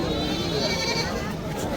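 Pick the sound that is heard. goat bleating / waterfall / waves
goat bleating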